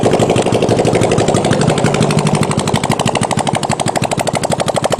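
A CB45 go-kart engine runs loud and close, its rapid single-cylinder firing pulses buzzing in a fast steady rhythm that quickens slightly partway through.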